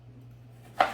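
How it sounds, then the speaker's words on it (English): A kitchen knife chopping an onion for homemade salsa, a single close, crisp cut heard near the end after a quiet moment. "So I'm going to cut the onion"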